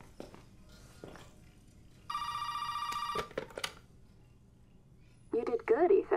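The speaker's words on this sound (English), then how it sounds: "Do I gotta answer this damn phone?" A telephone in the video game Resident Evil 7 rings once in a bright, trilling burst lasting about a second, followed by clicks and a voice talking.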